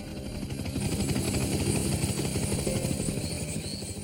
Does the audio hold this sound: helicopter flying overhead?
yes